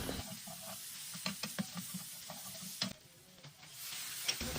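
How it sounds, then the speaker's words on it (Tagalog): Chopped garlic and onion sauté in hot oil in a pan, a soft steady sizzle broken by scattered scraping stir strokes and small clatters, with a quieter lull partway through. "igigisa na natin itong bawang at saka yung sibuyas"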